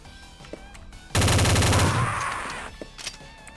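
A P90 submachine gun in a Counter-Strike-style Doom/Zandronum mod fires one sustained rapid burst of roughly a second and a half, loud and close, then fades into a short tail, no talk.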